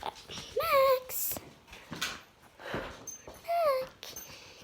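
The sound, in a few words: dog whimpering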